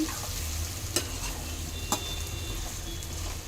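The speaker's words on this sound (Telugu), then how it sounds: "ఇంకొక పక్క వేయించుకోండి తిప్పుకోండి నిదానంగా తిప్పుకోండి" Stuffed brinjals (gutti vankaya) fry in oil with a continuous close sizzle, broken by two sharp clicks of a utensil as they are turned; no speech.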